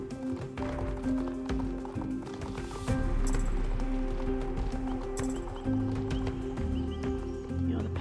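Paso Fino horse in the video game Star Stable Online: steady hoofbeats run throughout, with two short whinnies cutting in near the middle over a continuous game soundtrack.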